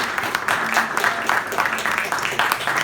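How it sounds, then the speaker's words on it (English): Audience applause for Susie and Craig at a book event, a steady wash of clapping through the whole moment at moderate volume. "A big round of applause for them"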